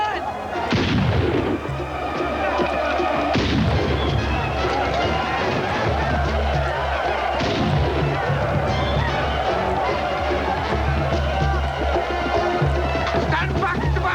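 Heavy gunfire and booming shots ring out in a film battle scene, several loud blasts spaced across a chaotic din of shouting voices and crowd noise.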